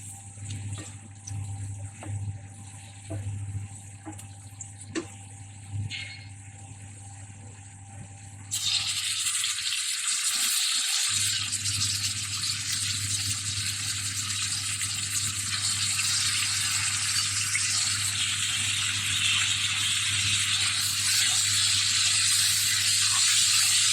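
Marinated pasanda meat dropped into light-browned onions in a pan, a sudden loud sizzling hiss that bursts in partway through and continues strongly, following a quieter stretch of low background hum.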